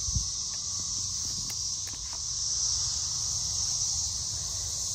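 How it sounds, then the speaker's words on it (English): Cicadas drone loudly and steadily in a garden, a dense continuous buzz filling the whole stretch with a few faint clicks and rustles underneath. "I've been trying to wait out these cicadas because they're so loud"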